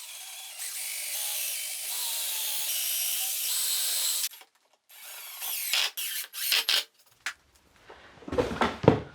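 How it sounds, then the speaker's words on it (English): A power drill whines steadily for several seconds while boring pilot holes in a wooden workbench frame, then stops; short bursts of driving screws and handling clatter follow, close by. "drilling some pilot holes and then screwing them together"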